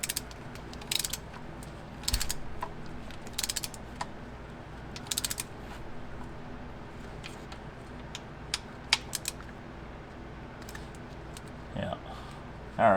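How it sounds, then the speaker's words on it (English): A small torque wrench ratchets in short bursts of clicking while tightening the transmission filter bolts on a CVT Jeep Patriot, with a steady mechanical background hum and a louder clunk at the end. "I've had problems with this little torque wrench before,"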